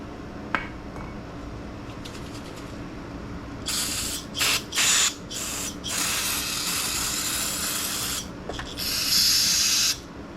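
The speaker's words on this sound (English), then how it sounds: "Getting low on carb cleaner here." Carburetor cleaner sprayed onto a carburetor in short aerosol bursts, a close, loud hiss in several separate blasts with brief gaps, ending in a longer final spray.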